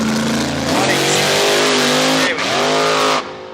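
A 1969 Mercedes drag racing car at a radial drag strip revs loudly and close, its engine climbing in pitch, dropping briefly, then surging again before cutting off, with no talk.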